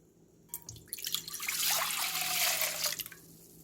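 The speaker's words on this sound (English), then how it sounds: "So now we are going to add 2 cups of soy sauce." Soy sauce poured into a pickling sauce, a steady gurgling stream of liquid lasting a couple of seconds, close and fairly quiet.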